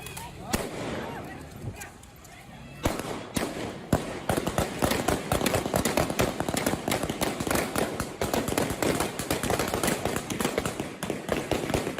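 Taliban fighters with AK-47s fire into a women's protest crowd in Kabul, a dense run of sharp, rapid gunshot cracks that starts sparse and then bursts almost continuously over crowd noise and voices.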